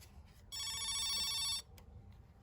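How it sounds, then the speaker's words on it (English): Ringback tone of an outgoing call placed from a computer mouse that doubles as a telephone handset, a single steady electronic ring burst of about a second, clear and moderately loud over a quiet background. "It's ringing."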